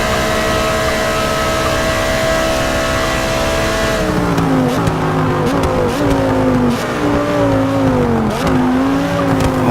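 Audi and Porsche race cars roar around a track, engines loud and continuous, the pitch climbing and dipping through gear changes as the cars pass close by.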